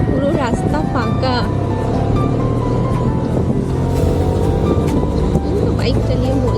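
A motorbike rides at night along an empty road on the way to a midnight puja in Kolkata, its engine and wind rumbling steadily and loud throughout.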